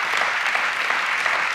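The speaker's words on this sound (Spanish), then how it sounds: "den un aplauso al Señor porque el Señor es bueno" A church congregation applauds in a steady, dense wash of clapping that holds evenly loud throughout the short stretch, with no voice on top.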